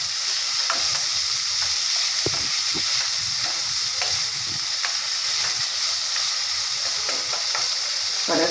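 Val beans sautéing in a pan for khichdi, a steady close frying sizzle with scattered stirring scrapes and taps running throughout, no voices.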